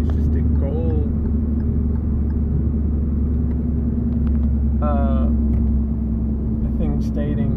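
Steady low road rumble and engine drone from inside a moving car, constant and fairly loud, with brief faint voice sounds over it.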